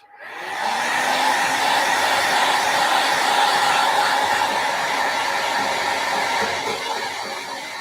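Handheld hair dryer blowing on a mixed media craft project, a loud steady whooshing roar that switches on abruptly and holds constant for several seconds, with no talking.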